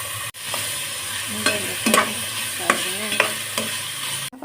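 Garlic, ginger and onion sautéing in a little oil, a steady sizzle with several scraping stirs of a utensil in the pan, close and fairly loud, with a brief spoken phrase near the start.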